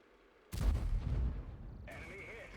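A single heavy tank cannon shot strikes an enemy Charioteer in World of Tanks, a loud booming blast that hits suddenly and rumbles on for about a second before a metallic ringing tone follows.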